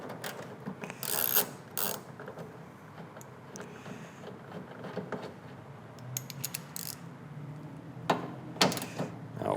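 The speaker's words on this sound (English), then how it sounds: "And now we have two 10mm bolts to remove" A hand ratchet works 10mm bolts loose from a 2014-2019 Silverado tailgate handle, quiet clicking bursts and mechanical rattles coming in irregular clusters up close, with faint clunks between them and no talking.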